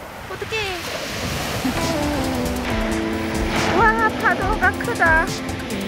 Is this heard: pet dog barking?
no